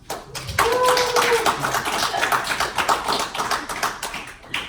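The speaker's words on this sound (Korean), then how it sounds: "한 번 더 박수!" Audience applause at a network marketing seminar, a dense burst of clapping that starts abruptly and holds loudly for several seconds before trailing off.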